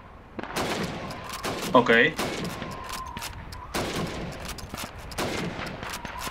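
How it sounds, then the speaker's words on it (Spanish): Rifle shots fired at helmet targets in Call of Duty 2, a handful of sharp cracks spread across the span with game ambience and a short talking voice between them. "Tiene 15 segundos para disparar a los cascos"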